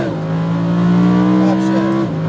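Lamborghini Huracan V10 at full throttle on a race track, a loud, sustained engine note holding steady in pitch for about two seconds before easing off, close and continuous.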